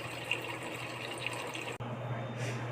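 Tap water runs steadily into a container, filled only about a quarter full to make a mopping solution for house cleaning; the flow is a continuous, moderately close wash that briefly cuts out and resumes.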